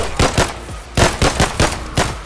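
Gunfire in the video game Elementite, loud close shots fired in a quick uneven rhythm of about eight sharp reports, no voices.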